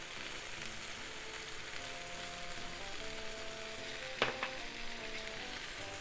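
Pork sizzles steadily in a hot pan with seasonings, a dense crackling fry running throughout, with a brief utensil clink partway and a faint tonal hum in the background.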